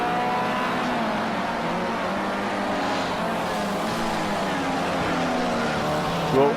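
Formula C race car in a SARCO sim racing event, its engine droning steadily with harmonic tones that rise near the end as the car gets back on the power after hard braking.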